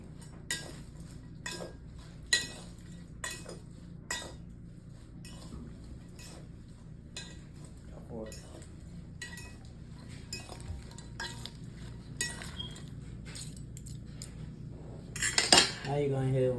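A salad with cheese is tossed in a bowl, giving repeated light clinks and scrapes of utensils against the dish, with a brief louder clatter near the end.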